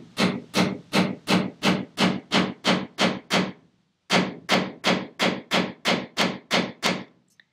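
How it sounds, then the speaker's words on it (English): Steady, evenly spaced hammer blows drive a nail into scrap wood close by, about ten in a row, then a short pause and another run of solid knocks. "I can hold the scrap wood like this and continue to hammer"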